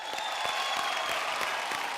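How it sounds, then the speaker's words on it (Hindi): Studio audience applause on an Indian comedy show, a steady wash of clapping with a faint crowd murmur, moderately loud throughout with no break. "जोरदार तालियां।"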